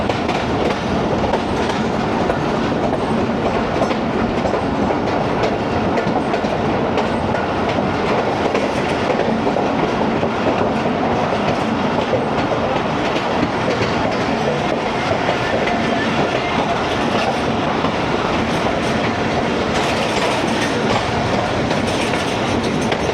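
The 9UP Allama Iqbal Express rolls through Shahdara Bagh Junction near Lahore, heard from inside the carriage as a loud, continuous rumble with steady wheel clatter on the rails.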